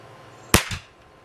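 A Crosman 362 air rifle fires a pellet at a target: one sharp, loud crack followed a moment later by a softer thud, then quiet, no voices.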